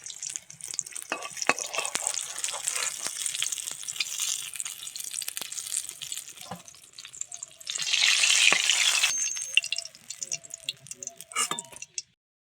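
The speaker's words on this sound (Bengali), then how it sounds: "তেল গরম হয়ে গেছে এবার বেগুনগুলো দিয়ে দেব" Eggplant pieces fry in hot oil in a pan for a vegetarian eggplant dish, giving a steady close sizzle. A louder hissing surge comes near the middle, with light clinks and stirring scrapes throughout.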